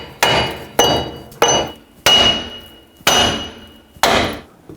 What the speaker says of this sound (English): use your large hammer, tap this wheel bearing till it comes out.